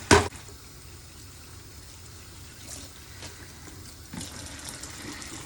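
Water running over a Burmese curly hair bundle as it is saturated during shampooing, a soft, steady wash of flowing water after a brief sharp splash at the start, close and continuous with no talking.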